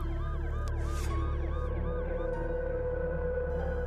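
Ambulance siren in an animation, a wailing two-tone sweep cycling steadily over a constant engine drone, fairly loud and alone without talk.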